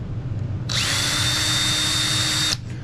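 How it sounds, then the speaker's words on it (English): A power drill whines at a steady high pitch for about two seconds, starting and stopping abruptly, close and loud against a quiet workshop background. "when you hit the button on your drill"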